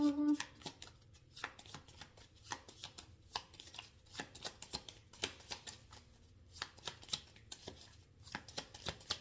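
Tarot cards shuffled and laid out during a love reading, a steady patter of soft riffling slaps and taps close by, with quiet murmured talk between the card sounds.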